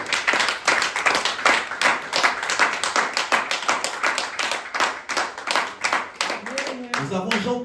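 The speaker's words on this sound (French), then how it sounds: "Est-ce qu'on peut acclamer pour le Seigneur?" A church congregation claps and applauds for the Lord during a Sunday worship service, with steady, dense clapping that runs for several seconds before thinning out. At the very end, a voice begins speaking.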